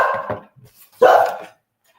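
Dogs bark indoors nearby, a couple of short sharp barks followed by one louder, longer bark, with quiet gaps between them and no talking.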